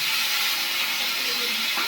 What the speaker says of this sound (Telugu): తర్వాత కరివేపాకు వేసుకోవాలి.